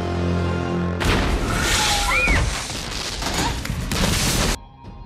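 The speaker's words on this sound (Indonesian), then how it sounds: "Sebuah rudal menghantam rumahnya," A sudden loud blast as a missile hits a house breaks in, followed by a rough, noisy rumble with scattered cracks and bursts, cutting off abruptly near the end.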